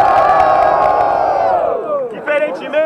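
A rap battle crowd at a BDE event in Guarulhos roars and cheers loudly to vote for a duo, a dense sustained wall of shouting voices that thins out and then bursts into scattered whoops.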